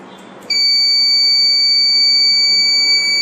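A loud, steady electronic alarm buzzer on an Arduino voice-controlled circuit starts abruptly and sounds continuously as a piercing high-pitched tone.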